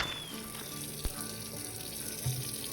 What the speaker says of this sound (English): So I'm going to fill it up with water.